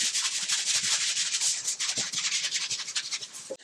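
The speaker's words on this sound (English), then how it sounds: "we're gonna rinse this all out again with our good bristle brush" A bristle brush scrubs a stone molcajete during rinsing, with rapid rhythmic rubbing strokes close up that keep going without pause.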